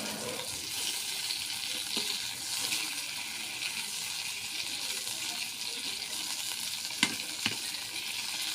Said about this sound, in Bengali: মাছ ভাজিতে একটু কড়া করে ভাজে খাই